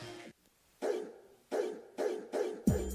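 A dog barks in quick, sharp bursts, four or five barks spaced about half a second apart, fairly close and alone, with a higher yelp at the very end.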